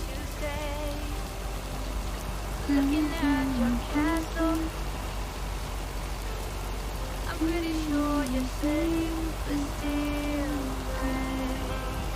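Steady rain patters across the scene in the video game Lake, a soft continuous hiss running the whole time beneath a gentle melodic music line that rises and falls.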